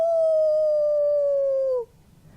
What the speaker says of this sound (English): hear the howl of werewolf loggers on the prowl